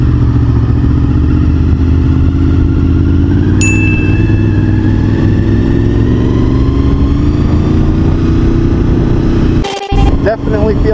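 A Honda VFR800 motorcycle being ridden, its engine droning steadily with a slowly rising pitch under heavy wind noise, close and loud, with a brief clatter near the end.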